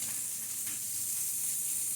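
Chicken wings frying in a pan give a steady, even sizzle and hiss, a constant close crackle with no talking over it.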